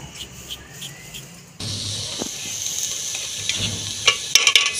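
Onions dropped into hot ghee in a pot in a home kitchen: quiet room tone, then an abrupt, continuous loud sizzle and crackle, with a few metallic clinks near the end.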